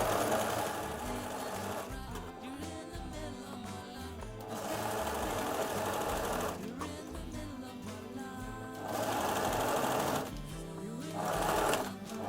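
A sewing machine stitches a seam in knit fabric, its fast mechanical whirring running in several bursts with brief pauses between them, close and fairly quiet.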